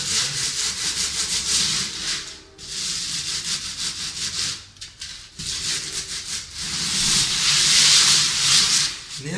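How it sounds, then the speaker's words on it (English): A sanding pad grinds along the edges of a newly installed Milestone Bergamo hardwood floor, a loud, steady abrasive rubbing in long passes broken by brief pauses. "I'm going to kind of cut my edges in with the sanding pad"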